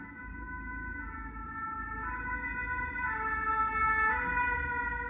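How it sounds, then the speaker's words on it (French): A wailing emergency siren passes by outside, its steady rising and falling tones growing gradually louder over a low rumble of road traffic, with no talking. "Voilà, on va laisser passer la sirène."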